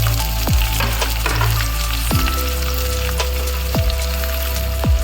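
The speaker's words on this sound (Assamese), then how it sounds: "এতিয়া ৰিফাইন তেল দি দিম। ইয়াতে পিঁয়াজ আৰু জলকীয়াখিনি ইয়াতে ঢালি" Onions and green chillies fry in refined oil in a hot wok, giving a steady crackling sizzle throughout with a few sharp utensil clinks over a low hum, no talking.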